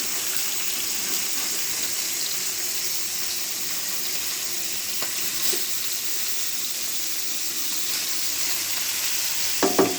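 Pieces of fish shallow-frying in oil in a pan, a constant close hiss and sizzle with faint clinks from turning the fish, and a couple of louder taps near the end.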